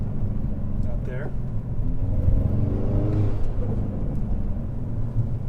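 Hyundai Veloster N fitted with an AEM cold air intake revs in third gear from inside the cabin with the windows up, a steady droning engine note under a voice talking throughout.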